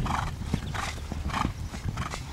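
A horse's hooves beat a steady rhythmic clip-clop on soft ground during riding training, several close footfalls at a trotting pace, with faint background noise and no talking.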